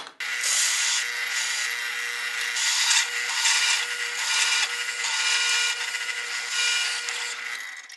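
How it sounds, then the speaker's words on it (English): A power drill bores a hole through a wooden tenon jig built for a table saw, giving a steady, close grinding whir with slight rhythmic surges as the bit cuts through the wood. No one speaks. "simply drill a hole here that we can put one of our clamps through"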